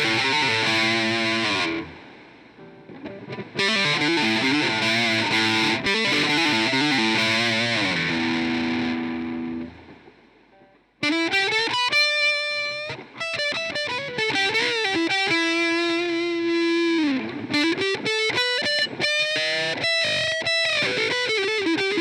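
Budget Telecaster electric guitar played through the neck pickup with the tone knob at 10, sustained chords followed by a run of distinct single notes and short melodic phrases, loud and close with no talking.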